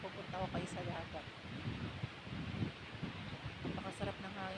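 Wind blowing steadily at a seaside resort, a continuous rushing hiss buffeting the microphone, with someone talking throughout over it.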